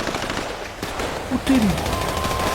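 GTA 5 mansion attack with rapid gunfire bursts and blasts over a constant loud din of combat, with a voice briefly talking in the middle.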